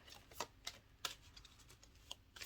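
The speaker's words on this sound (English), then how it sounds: "I'm going to just shuffle some more cards while I talk about this pause and observation." Tarot cards being shuffled by hand make a quiet series of crisp, irregular clicks and riffles, faint and close, with no voices.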